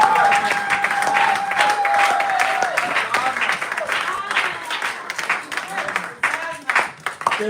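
A church congregation claps and cheers together in sustained applause during a worship service, dense and loud throughout with voices mixed in, thinning slightly toward the end.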